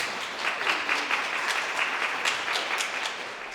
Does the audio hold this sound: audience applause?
yes